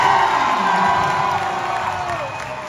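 A rodeo crowd cheers, whoops and applauds for a girl competitor in a cowboy-country arena, a loud, dense roar that holds steady and then eases slightly toward the end.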